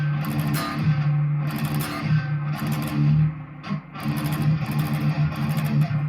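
Distorted electric guitar chugging on an open low string in rhythmic palm-muted bursts, loud and close, with short pauses between groups, from a song.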